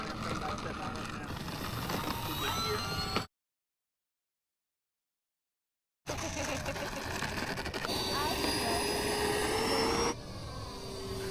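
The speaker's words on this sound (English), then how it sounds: "Alright, Johnny, I'm coming back to that downwind now." A Freewing F-16 90mm electric ducted-fan model jet flies overhead at an airfield with a rising and falling turbine-like whine and whoosh, broken by a few seconds of dead silence, while people talk nearby.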